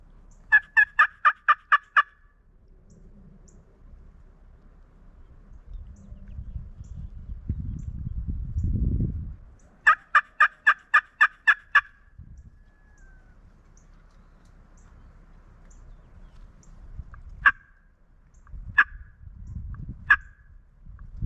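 A hand-worked turkey call imitates a gobble during spring turkey season, two loud rapid rattling bursts separated by a quiet stretch, then a few sharp single yelps near the end over low rustling outdoor background.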